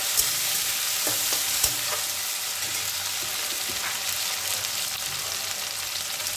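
Chopped tomato frying with browned onion in a pan, a steady close sizzle with occasional stirring scrapes and clinks throughout.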